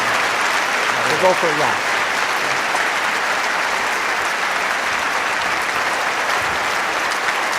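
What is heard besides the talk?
applause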